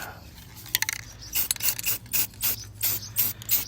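Ratchet socket wrench tightening a handle onto the glove compartment of a 1966 Ford F100, a few quiet clicking bursts and metallic ratcheting strokes in a rhythmic series, close but soft.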